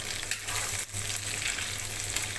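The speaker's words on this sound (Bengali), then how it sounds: "এভাবেই আমি ভাজবো প্রতিটা কলিজা" Chicken liver pieces frying in hot oil for an Eid chilli liver dish, a soft continuous sizzle with faint crackles, quiet and close, no voices.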